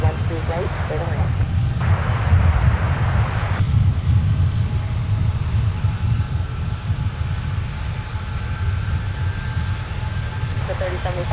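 A regional jet takes off at Minneapolis airport with a loud, steady low roar that swells and holds. Voices talk over the engine noise.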